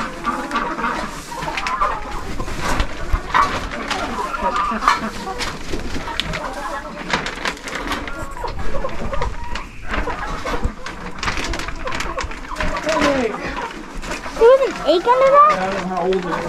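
Molting chickens cluck and chatter nearby while a person talks over them, with scattered rustling and soft clatter in the background.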